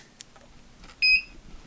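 A Q'Nique longarm sewing machine gives a single short electronic beep on power-up, clear and close in an otherwise quiet room after a couple of faint clicks.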